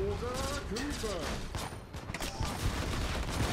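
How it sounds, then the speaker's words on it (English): Rapid bursts of gunfire in the FRAG Pro Shooter video game ring out over several seconds as a crackling volley, with a player's voice talking over the start of the shooting. "Who just shot me?"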